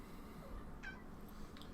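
A pet cat meows once, a short, clear cry set against a steady low background hum, with a fainter second sound a moment later.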